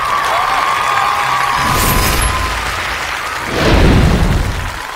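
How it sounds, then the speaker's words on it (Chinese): Studio audience at a televised crosstalk comedy show applauds and cheers to welcome a new performing duo onstage, a steady wash of clapping that swells louder near the end. "掌声有请"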